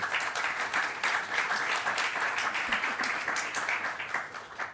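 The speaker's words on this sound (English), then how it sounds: "Let's give them a round of applause." An audience applauding panel speakers at a green development event, dense sustained clapping filling the room evenly throughout and tapering slightly at the end, no voices.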